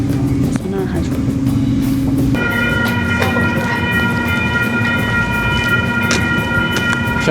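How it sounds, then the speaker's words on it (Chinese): A small train approaches a level crossing in Waterloo, Canada, its low rolling rumble joined partway through by steady, high warning tones from the crossing signal, loud and close. "听到这个声音，就知道是小火车来了。"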